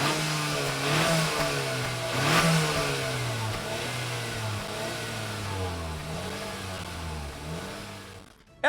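Engine of a 2024 Acura RDX A-Spec revving: a mid-pitched drone that rises and falls through several rev swells, including a sharper peak early on, before settling and cutting off abruptly at the end.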